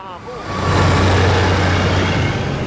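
A large truck in the 1971 film Duel roars past close by, its engine rising into a loud steady rumble that fills the moment, with no talking.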